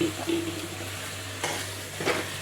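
Softened, washed pasta tipped into a pan and stirred, a soft sizzle under a few scraping and clinking stirs from a spoon against the pan over a couple of seconds.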